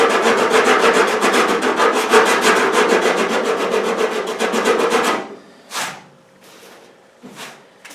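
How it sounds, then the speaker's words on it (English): Body filler on a fender flare is sanded with 40-grit sandpaper in fast, loud back-and-forth rasping strokes for about five seconds, followed by a few separate short rubs. "I've been smacking that part of the fender flare with the 40 grit"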